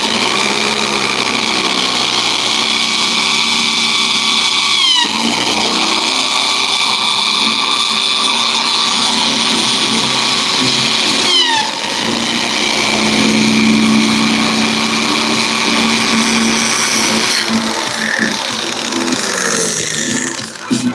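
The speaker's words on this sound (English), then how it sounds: "I don't want to really drill all the way through." A power drill whines loudly and continuously as it bores into a lock, its pitch dipping briefly under load a couple of times before steadying again.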